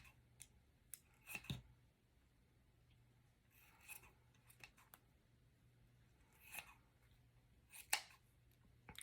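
Scissors snipping through a small microfiber towel to cut it in half, a few faint, close crisp snips and rustles spaced apart over a low steady hum, with no talking.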